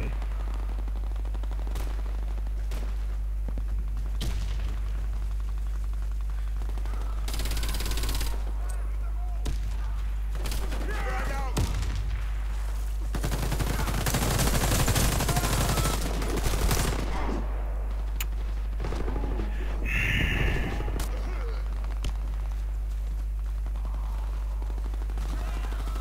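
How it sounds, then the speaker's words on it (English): Video-game gunfire crackles in scattered bursts and short volleys over a steady low hum, some shots louder and nearer than others, with occasional voices in the background. "Oops, I'm shooting at my teammate."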